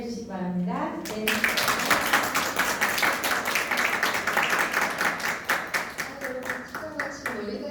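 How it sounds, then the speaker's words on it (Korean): Applause from a seminar audience at a parenting lecture, greeting the lecturer as she comes forward: loud, steady clapping from many hands for several seconds. A voice speaks briefly at the start before the clapping swells. "실장님 나오실 때 큰 박수로 환호해 주시기 바랍니다"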